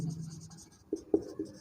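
Pen writing by hand during a chemistry lesson on haloalkanes, heard as a few short, close scratching strokes after a low hum, with small taps between them and no talk.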